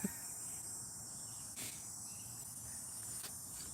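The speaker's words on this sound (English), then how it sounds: "The cicadas are making some noise" Cicadas buzz outdoors in a steady, faint high-pitched drone with soft pulsing swells, continuous throughout and without voices.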